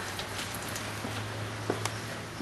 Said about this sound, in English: Of course, it's raining out now,